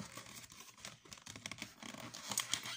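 Gift packaging torn open by hand during a birthday unboxing, with close, quick ripping, scratching and crinkling in irregular bursts, no talk.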